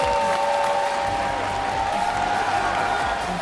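A large esports arena crowd at the 2015 MSI League of Legends semifinal between SK Telecom T1 and Fnatic cheers and applauds in a loud, continuous roar that fills the whole stretch.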